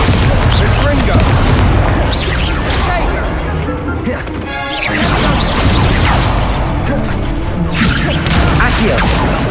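Confringo blasting spells fire in Hogwarts Legacy, making loud booming explosions and whooshes in a dense, continuous battle din, with a brief lull midway.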